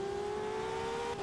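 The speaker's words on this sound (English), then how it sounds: "hear that Formula Renault really roar into life" A Formula Renault race car roars in the Simraceway racing game, a steady loud engine drone with a sustained tonal whine, heard on board and alone without commentary.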